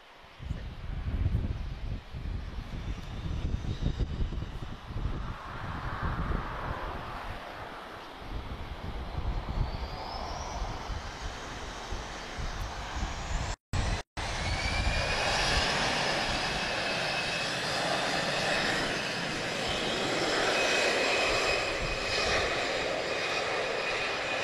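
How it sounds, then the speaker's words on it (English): A business jet approaches from a distance, its engine whine and roar swelling steadily until it becomes a broad, loud rushing sound that holds for the rest of the stretch. "I can see a BizJet coming towards us."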